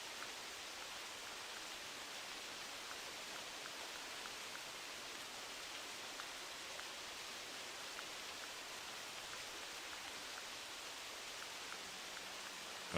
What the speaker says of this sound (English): Freaking rain.